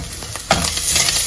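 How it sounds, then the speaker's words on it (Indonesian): Garlic is sautéed in a used wok still holding leftover oil from frying shrimp, giving a steady close sizzle with a brief clatter of stirring partway through, and no voices. "kita langsung tumisin bawang putih"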